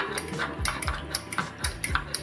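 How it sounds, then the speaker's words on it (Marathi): Rhythmic clattering and knocking as a wooden churner works lassi in a pot, quick repeated strokes close up and fairly quiet. "आता ही आपल्याला मस्तपैकी रवीच्या साहाय्याने ढवळून घ्यायची"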